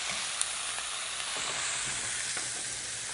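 Meat sears in a hot pan ahead of braising, giving a steady, fairly faint sizzle with a few small pops and no voices.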